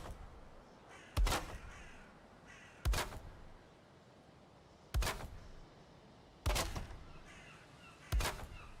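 Crow in the video game Valheim, cawing five times at steady intervals of about two seconds, each call loud, harsh and close over a quiet ambient background.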